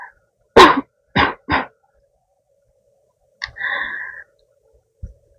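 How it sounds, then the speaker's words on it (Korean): A woman with a weak, irritated throat coughs in short bursts, three harsh coughs close together and then a hoarse throat-clearing rasp, heard close up and alone against near silence. "시간 지나면은 또 기침을 계속 해가지고 소용이 없어"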